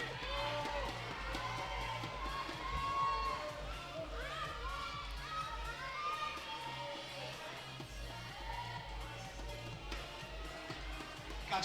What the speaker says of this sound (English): Angie getting a lot of encouragement, as you would expect.